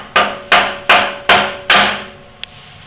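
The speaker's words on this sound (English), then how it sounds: "With using a simple mallet and a key, you can just pop it in the slot here" Five loud, evenly spaced metallic strikes ring out up close as a mallet drives a key to release a drill press Morse taper, each blow decaying briefly, followed by a faint small click.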